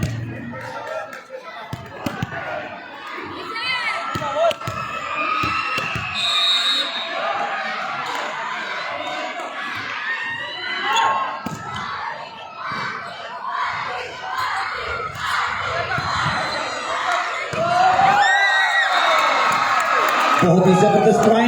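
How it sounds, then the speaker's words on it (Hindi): A crowd at an indoor basketball match between army and navy teams in a sports complex cheers, shouts and claps continuously, loud and dense, swelling toward the end, with an announcer's voice over it. "तालियां बजाइएगा"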